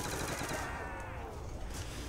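Rapid automatic gunfire from the Nuketown Zombies video game, a dense continuous burst of shots at steady loudness throughout, with no talking over it.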